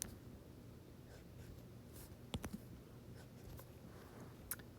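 Pen or marker strokes while drawing an organic chemistry reaction mechanism by hand: soft, steady scratching at low level, with a few sharper taps and ticks scattered through and no voices.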